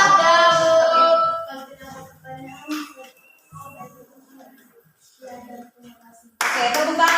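A teacher's voice speaks to a school class, then the students break into a short, loud burst of hand clapping near the end.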